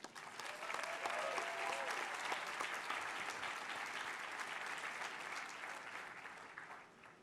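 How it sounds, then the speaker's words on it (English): Sustained applause from a large audience honoring medical residents at the Harvard Medical School Class Day ceremony, steady dense clapping that holds for several seconds before easing slightly, with faint voices mixed underneath. "Let's give a big round of applause to our residents."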